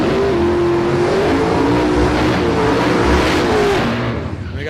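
A Super Sedan race car at a street drag race roars at full throttle, a loud sustained engine drone with shifting pitch that fades slightly at the end.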